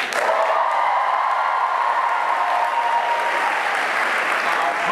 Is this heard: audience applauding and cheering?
yes